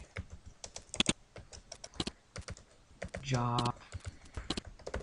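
Keys tapped on a computer keyboard in quick irregular bursts, close and fairly crisp, under someone talking, with a brief tonal beep partway through.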